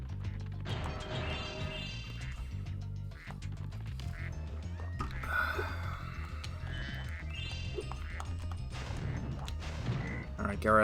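A frog croaks in the PlayStation platform game Spyro 2: Ripto's Rage: repeated throaty quacking croaks sound over busy game music and effects, fairly quiet and continuous through the stretch.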